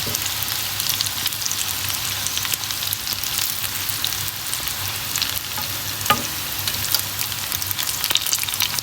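Potato snack frying in coconut oil, a dense, steady sizzle with crackling spatters and a few sharper pops throughout, close by and with no talking.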